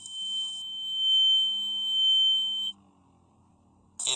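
A steady high-pitched ringing tone over a low muffled rumble, cutting off abruptly, then a brief burst of sound returns at the end.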